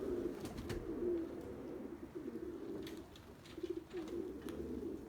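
Tumbler pigeons coo in low, repeated throaty phrases, fairly close, with some faint rustling and flutter around them and no speech.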